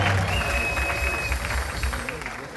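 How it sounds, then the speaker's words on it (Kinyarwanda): An audience applauds a couple, Bishop and Mama Bishop, at an awards ceremony, with steady crowd clapping and cheering filling the room under faint murmuring voices. "Can you clap for them?"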